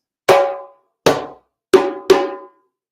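Four sharp hand drum strikes mixing slap and bass tones, close and clear, with slightly uneven spacing, the last two coming quicker together.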